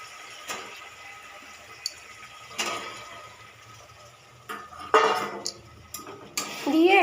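A spoon stirring fried potatoes and pointed gourd into a masala in a pan, heard as scattered scrapes and clinks against the pan, fairly quiet with brief louder knocks.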